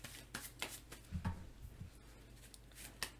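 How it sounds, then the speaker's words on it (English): Cards drawn and handled during a Marvel Legendary tabletop game make a series of quick, soft papery flicks and slides, close and fairly quiet, with a few light thumps on the table. "and draw our 2 cards."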